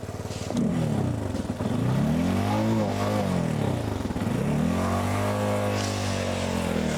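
200 cc motorcycles rev and accelerate on a mountain rally stage route at Uludağ, engine pitch rising and falling in repeated sweeps before settling into a steady loud drone, with no talking over it.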